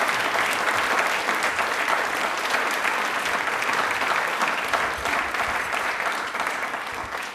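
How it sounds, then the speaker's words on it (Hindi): An audience claps for Babasaheb Ambedkar at a quiz programme on Ambedkar Jayanti: dense, sustained applause that fills the space evenly and tapers slightly near the end, with no voices over it. "तो तालियां बाबा साहब के लिए जोरदार वाली होनी चाहिए।"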